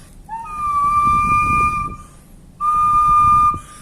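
Brazilian wooden tube bird-call whistle, two sustained sweet, velvety tones, the first held about two seconds and the second after a short pause, close and clear over a faint background murmur.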